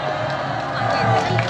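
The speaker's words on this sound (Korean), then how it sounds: "여러분 큰 박수로 격려 부탁드리겠습니다." A crowd at an outdoor political rally near Seoul Station cheers and claps briefly, a burst of shouts and whoops mixed with some applause and voices.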